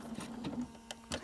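A machine stitches along a fabric edge on star-point quilt piecing, giving a short burst of quiet, rapid mechanical ticking with a faint hum, close and alone.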